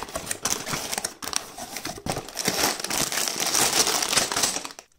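Plastic bags from a BlueBrixx building set crinkle and rustle continuously as they are handled and unpacked, close and fairly loud, with brief pauses and no talking.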